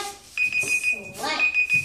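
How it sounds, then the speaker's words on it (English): A drawing-challenge timer alarm going off, a steady high electronic beeping pulsing repeatedly under people talking close by. "That's the timer."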